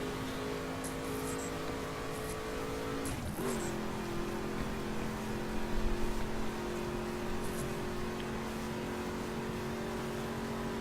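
A 2011 Ford Mustang GT engine drones steadily while driving in The Crew, with one audible gear shift and a sustained mid-level hum throughout, no talk.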